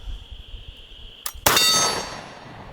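A single lever-action rifle shot fires outdoors, a sharp loud crack with a ringing metallic tail after a brief quiet lead-in and a faint click just before.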